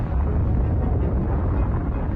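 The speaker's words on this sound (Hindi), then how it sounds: "एक फिजन चेन रिएक्शन देखने को मिलता है जिससे एक धमाका होता है।" A deep, rumbling atomic bomb explosion roars continuously, a heavy low-frequency blast that fills the space without any voices.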